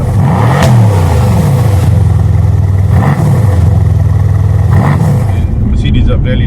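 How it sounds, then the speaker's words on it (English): A Mercedes C63 AMG engine revs repeatedly in rising and falling surges, loud and close, with a deep burbling exhaust rumble throughout. "At the moment, most of this noise comes from the exhaust."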